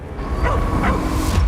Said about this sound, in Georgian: შეეშინდა და ყეფა დაიწყო.